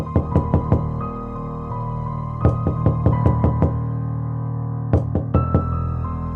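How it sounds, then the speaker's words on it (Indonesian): Knocking on a door as a sound effect in a spooky story: three bursts of sharp, hollow raps, about four, then six, then four knocks, close and loud over a steady low background drone. "suara ketukan pintu"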